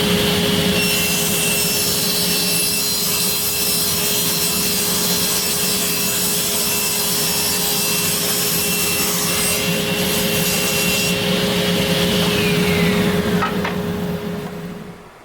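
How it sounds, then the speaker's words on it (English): A handsaw rips an oak board lengthwise to about four inches wide for a ski rack, a continuous rasping cut that stays loud and steady for the whole stretch before trailing off at the end. "I'm first going to go ahead and rip this down to 4 inches"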